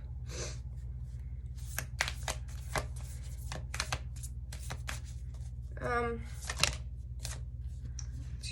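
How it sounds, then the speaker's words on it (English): Tarot cards shuffled by hand during a reading, giving a run of quick crisp riffling snaps and flicks over a steady low hum, with a brief voice sound midway. "it's just funny the way the cards are shuffling out"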